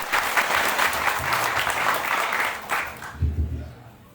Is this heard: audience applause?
yes